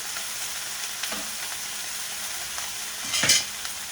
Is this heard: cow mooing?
no